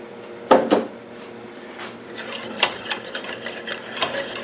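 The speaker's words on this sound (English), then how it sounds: "At this point you add your beaten egg and stir for 2 or 3 minutes until it thickens." Beaten egg stirred into a mixture in a double boiler for Nanaimo bars: a spoon clinks sharply against the pot twice, then soft scraping strokes with light taps follow in an irregular rhythm, up close and alone.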